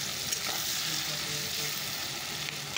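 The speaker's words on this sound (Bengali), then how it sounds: "পেঁয়াজটাকে একটু ভাজা ভাজা করে নিই।" Onion, tomato, chili and garlic fry in a hot pan, giving a steady, close, loud sizzle with a little stirring throughout and no talking.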